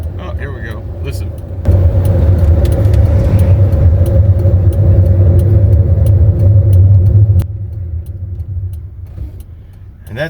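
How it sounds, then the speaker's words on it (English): A van drives along a road with grinding brakes, a loud steady rumbling scrape lasting several seconds over engine and road noise, with a voice speaking. "The second I try to show you that these brakes are grinding, I'm catching every light."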